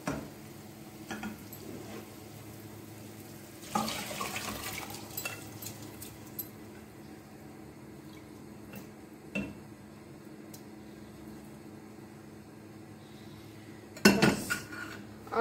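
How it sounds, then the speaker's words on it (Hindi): Boiled kidney beans tipped into fried masala in a cooking pan, a couple of soft clattering bursts and scrapes of a utensil against metal, close by with quiet kitchen background and no talk. "तो अब हम इसमें बॉइल किए हुए राजमा डाल देंगे।"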